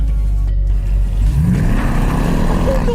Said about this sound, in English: Launch enabled, apply full throttle.